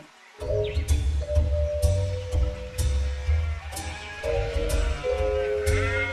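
A sick old goat bleating repeatedly in short, wavering cries, fairly close, against a soft rustling background with no talking.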